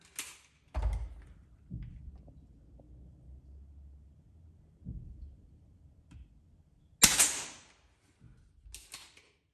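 A Umarex SPA 100 .177 break barrel air pistol fires a sharp, loud shot near the end, with a few thuds and clicks beforehand from handling and cocking, and no talking over it.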